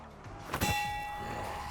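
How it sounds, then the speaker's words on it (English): A bell on the docks in Black Ops 4 is struck once, a bright metallic clang that rings on with a long sustained tone, close and clear with no voices. "Okay, there's a bell right here."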